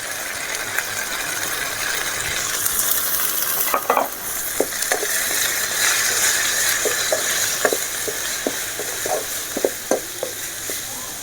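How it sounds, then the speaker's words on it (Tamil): Ingredients sautéing with chili powder in a frying pan for a squid fry, a steady close sizzle broken by scraping stirs and clinks of the spoon against the pan. "இதையும் நல்லா பச்சை வாசனை போகிற அளவுக்கு நல்லா வதக்கிக்கணும்"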